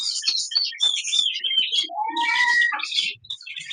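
Java sparrows, a blue pied male and a common female, chirp and twitter in a steady run of close, bright calls with short trills, no talk over them.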